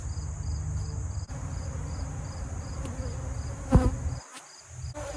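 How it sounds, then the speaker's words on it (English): Angry honey bees buzzing around a hive being dusted with powdered sugar on a farm, a dense continuous drone close by with a brief louder thump near the end. "There's a few that are pretty angry and buzzing around."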